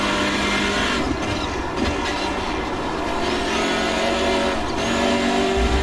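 Hyundai Veloster N touring car engine in the iRacing simulator, a steady loud drone held through the whole stretch with slight pitch shifts under acceleration, alone with no talk.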